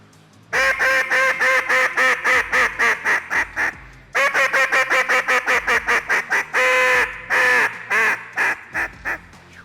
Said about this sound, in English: How would you go about utilizing a loud duck call if you were trying to run traffic on flight ducks?